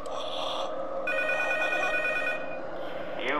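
Telephone ringing in the P.T. (Silent Hills) horror video game, a sustained bell-like ring that pauses briefly and then resumes, over a low droning ambience.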